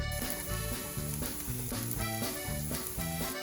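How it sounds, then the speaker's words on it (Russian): Chopped onion sizzles steadily in hot oil in a frying pan, a dense, continuous frying hiss with soft background music running beneath it throughout. "Масло разогрелось, выкладываем лук на сковородку"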